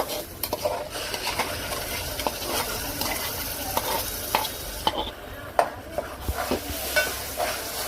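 Onion sautéing with masala for a Kolhapuri-style chicken rassa, a close steady sizzle broken by frequent spatula scrapes and clinks against the pot, no speech over it.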